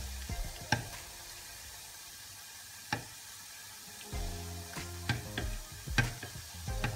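Dough fries in hot oil, giving a soft steady sizzle with scattered crackles and sharp pops from the pan, close and fairly quiet, and no one speaking.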